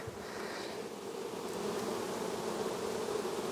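A crowd of honeybees hums steadily and loudly around an opened hive colony during queen caging, the drone continuous and close with no voices over it.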